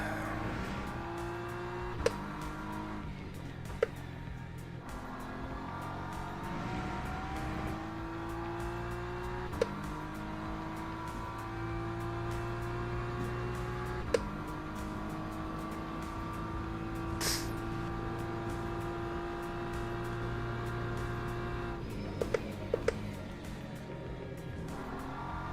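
A BMW race car at Monza in a racing game, its engine droning steadily and climbing through gears with repeated upshifts, occasional sharp clicks and kerb strikes cutting through, near and continuous.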